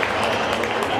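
A brief burst of crowd applause rises in a basketball gym as a player checks out of a college men's game, the clapping dense and continuous for about a second.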